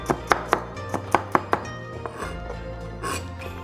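A sharp knife slicing vegetables on a cutting board while preparing Korean kimbap rolls, six crisp close chops in quick succession early on, then quieter scraping and handling noises.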